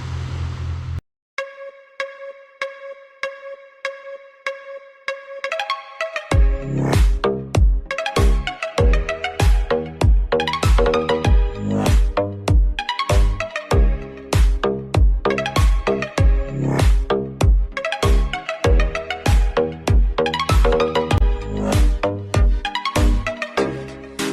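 A metal detector gives a steady electronic tone followed by a long run of rapid, rhythmic beeping pulses, loud and continuous, like a device signalling repeatedly.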